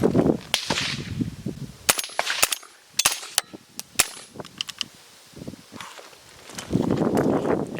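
A suppressed 300 Blackout PSA JAKL rifle fed from MFT magazines fires subsonic rounds outdoors: a string of sharp, dry cracks at an uneven pace, with faint rustling between them.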